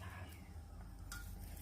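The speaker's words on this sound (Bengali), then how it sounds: "এইভাবে করে আমি সবগুলা ভেজে নিব" Onion and lentil fritters sizzle steadily in hot oil, a continuous close frying hiss with a brief clink partway through.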